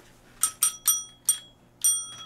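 A small toy bell rings in five sharp, bright dings at uneven intervals, the faulty bell sometimes catching, heard alone against a quiet hum.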